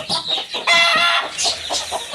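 Chickens cluck and squawk noisily in a farm coop, close and busy, with overlapping agitated calls and no talk.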